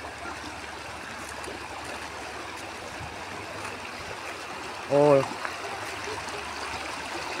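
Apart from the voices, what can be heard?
flowing water of a stream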